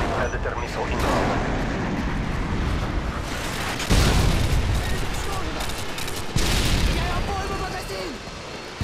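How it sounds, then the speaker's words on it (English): A Predator missile strike in Call of Duty Modern Warfare 2 erupts within continuous loud battle noise, with rolling blasts and crackling gunfire and a heavy impact partway through. "Friendly Predator missile inbound."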